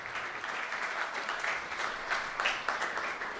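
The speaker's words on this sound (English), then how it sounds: "He needs a long applause." Crowd applause at a political debate event in Los Angeles, a steady sustained clapping wash lasting throughout, fairly even with a few louder claps near the end and no talk over it.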